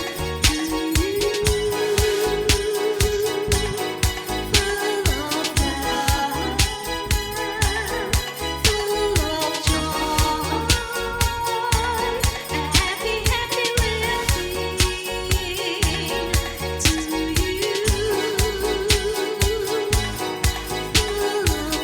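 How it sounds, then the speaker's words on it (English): Dense, driving drums pound continuously with crashing cymbals, played loud and fast within full music for the whole stretch. "You could hear the distinctive drumming of the legend right here."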